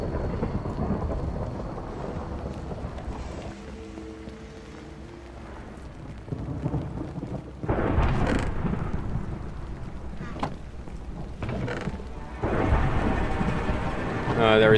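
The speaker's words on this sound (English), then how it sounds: "There is way too much thunder." Thunderstorm in Minecraft with the Scape and Run: Parasites modpack, rain hissing steadily while thunder rumbles and cracks in repeated loud bursts, with people talking faintly at times.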